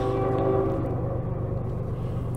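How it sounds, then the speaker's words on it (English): A CSX freight train horn sounds a long sustained blast at night, tonal and somewhat distant, fading into low rumbling rail noise. "I like to hear that train horn way down there blowing at the crossings"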